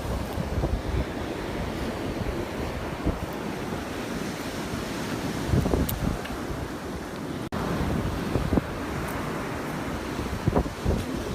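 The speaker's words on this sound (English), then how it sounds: "when the waves are really rough like this" Rough ocean surf rolls and crashes continuously on a windy beach, with gusts buffeting the microphone throughout and no voices.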